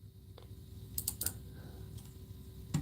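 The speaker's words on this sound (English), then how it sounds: "I'm just clicking on some information." Computer clicks while information is entered, a few quiet, sharp taps and clicks scattered over a low steady background hum.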